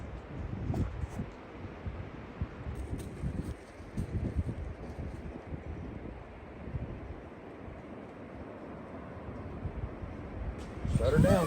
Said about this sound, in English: Oh, hear that wind?